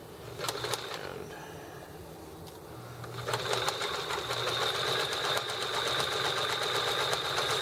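A sewing machine stitches around a drawstring bag, starting with a few hesitant bursts and then running in a steady fast whirring rhythm close by.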